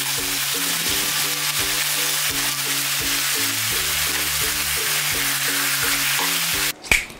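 Samgyupsal pork belly sizzles steadily in a pan, a loud, continuous hiss of fat and crackle with music running underneath, ending in a short clatter.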